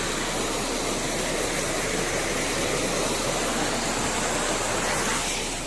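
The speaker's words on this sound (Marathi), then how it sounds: "खरं तर हे चिरकेवाडीतून तिकडून वरून पाणी येते आणि या मोरीतून खाली येते. आणि इथे आल्यावर असं वाटतं की जसं काही वॉटरफॉलच आहे." Water pours down through a culvert in a village in the Konkan, forming a small waterfall that gives a steady, loud, unbroken rushing hiss close by, with no voices.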